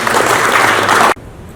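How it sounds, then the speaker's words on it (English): An audience claps steadily for a government official taking the stage at a formal event, a dense even wash of hands that cuts off abruptly near the end and leaves quiet room tone. "allow me to ask you to clap for the PS as she comes on"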